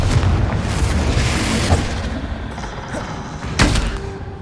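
In Hogwarts Legacy, a Confringo spell detonates with booming blasts, one heavy burst near the middle and a sharper crack toward the end, amid game clatter.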